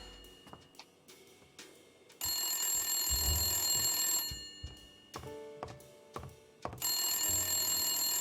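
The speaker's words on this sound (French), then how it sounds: "Le téléphone!" An old-style telephone bell rings in the Blacksad video game, two long loud trilling bursts separated by quieter ticking and clicking game sounds.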